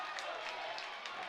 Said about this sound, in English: And the home crowd loves what they see right there.